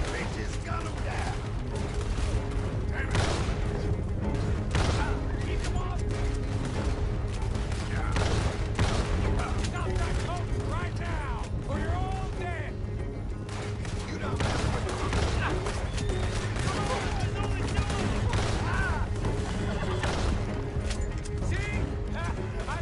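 Gunfire during a stagecoach robbery in Red Dead Redemption 2: repeated sharp gunshots and impacts crack throughout a loud, busy game mix of rumbling wheels and hooves, with someone talking over much of it.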